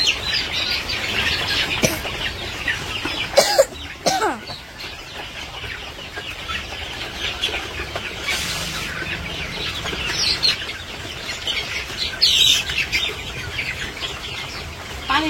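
Chickens in a village yard cluck while being fed on a rainy morning, with scattered clucks, a few wing flaps and faint chirps over a steady background hiss.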